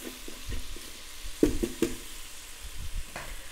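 Butter and meat drippings sizzle in a slow cooker insert set to sear, a soft sizzle under a few knocking scrapes as a utensil loosens the browned bits from the bottom.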